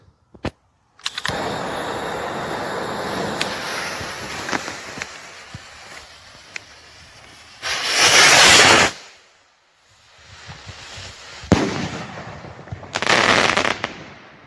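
Hawk in Hell firework cake (63.1 g) firing a barcode-to-chrysanthemum effect: sharp launch pops and crackles, then two loud, roaring bursts several seconds apart, the second shorter, with no talking.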